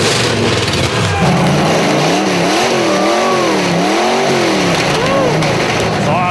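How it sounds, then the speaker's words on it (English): A car engine revs repeatedly, rising and falling in pitch over a steady loud roar, with voices talking over it. "the Challengers are ready to see if their engine will fire up"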